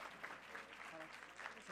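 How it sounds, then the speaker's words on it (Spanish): Audience applause at a public accounting congress, a steady wash of clapping from a seated crowd, moderately distant and fairly faint, with a voice talking over it. "les brindamos un fuerte aplauso"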